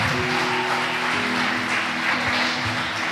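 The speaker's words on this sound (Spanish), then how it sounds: "Denle un aplauso" Congregation applauding during a church sermon, a dense steady wash of clapping holding at even loudness throughout, with a faint low hum beneath.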